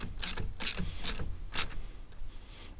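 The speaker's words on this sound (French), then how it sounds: "Je passe mon cliquet." A ratchet wrench tightens a car battery terminal nut on an Opel Mokka in four sharp clicking strokes spaced about half a second apart, close and distinct, followed by quieter handling.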